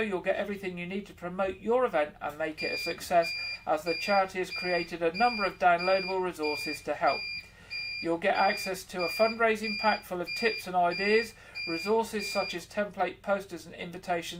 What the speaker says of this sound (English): I'm sorry about that beeping in the background.